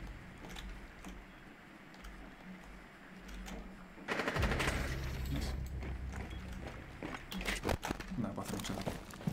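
Rapid gunfire in the tactical shooter Rainbow Six Siege breaks out about midway and keeps going as dense, loud bursts and single shots, with players talking throughout.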